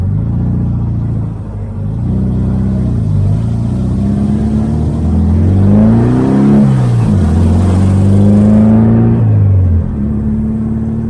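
A VW car cruises along the 215 Beltway freeway near Las Vegas, its engine a steady mid-pitched drone with rising and falling revs as it accelerates and eases off, a continuous rumble with road and wind noise throughout.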